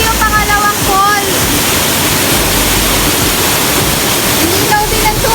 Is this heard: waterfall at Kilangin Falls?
yes